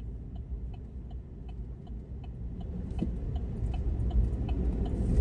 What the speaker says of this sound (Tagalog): Ay, traffic na naman.